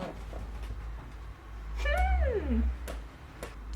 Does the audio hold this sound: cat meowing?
yes